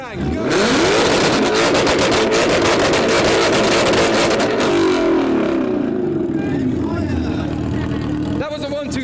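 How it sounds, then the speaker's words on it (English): Ford Mustang engine roaring at full throttle in a rev battle, a loud sustained howl that climbs, holds near the limiter, then drops away, with a burst of crowd noise at the end. "We'll do one more from the Mustang, see if we can beat 128 point."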